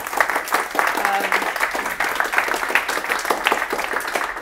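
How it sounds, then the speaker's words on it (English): A lecture audience claps steadily, a dense patter of applause filling the room for several seconds. "Round of applause for all,"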